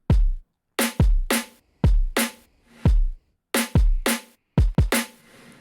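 Neurobass drum loop built from two layered kicks and two layered snares, playing a punchy pattern of hard, booming low hits and crisp cracks with short gaps between, close and loud with no talking.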